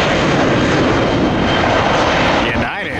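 An Airbus A319 jet airliner at Tampa International Airport makes a loud, steady, broadband roar that holds for a few seconds, then eases slightly near the end.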